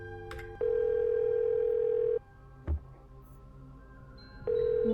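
A telephone in the Nancy Drew video game White Wolf of Icicle Creek gives two long steady rings separated by a pause and a brief click, with quiet background hum between.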